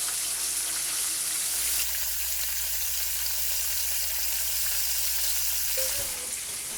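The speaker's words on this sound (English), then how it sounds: "anywhere from 10, 15, 20 minutes frying in hot oil should get you right there" Flour-breaded squirrel frying in hot oil, a steady close sizzle throughout with a brief quieter dip and a faint clink near the end, no talking.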